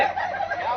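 A chicken gives a short, close, loud cluck lasting under a second.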